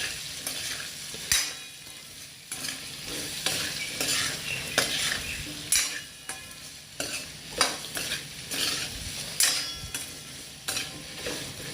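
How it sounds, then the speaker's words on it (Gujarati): Raw mango sabzi with salt and turmeric is stirred in a pan, with repeated scraping and clinking strokes of a spoon over a low, steady sizzle, close and fairly quiet. "મીઠું નાખીને હલાવી દઈશું મસ્ત મજાનું"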